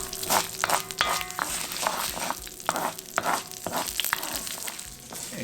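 Green chili and curry leaves frying in a pan as they crisp, a dense crackling sizzle with sharp pops and spatters throughout, close and steady.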